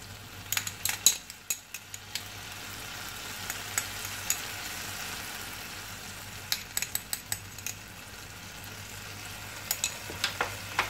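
Tomato concentrate sizzles in a pan while being stirred, a low steady frying hiss with intermittent scraping and clinking of the utensil against the pan, fairly quiet and close, no voices.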